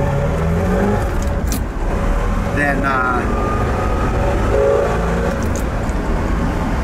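A 1967 Chevrolet Corvette convertible rolling on new tires, with steady road and engine noise running the whole time under someone talking close by.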